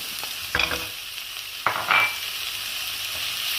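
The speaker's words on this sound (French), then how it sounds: "Je mélange un petit peu, je vais mettre mes carottes." Carrots stirred in a hot pan with no fat added give a faint sizzle, broken by two or three short scraping stirs of a utensil, close by and with no talking.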